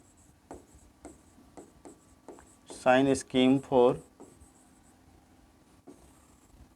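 Pen on paper writing out the steps of a maths sign scheme, faint scratches and taps at steady intervals, with a brief burst of louder talk in the middle.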